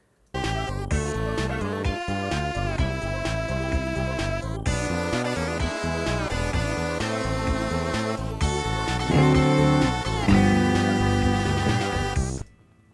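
Soundtrack music from the Mother 3 video game plays alone, a dense layered track with bright synth melodies and punchy percussion, loud and continuous with brief drop-outs before a swelling finish.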